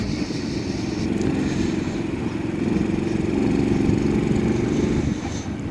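Honda C90 motorcycle fitted with a Lifan 110 engine at part throttle, a steady close buzzing drone that rises slightly in the middle and eases off near the end, no talking.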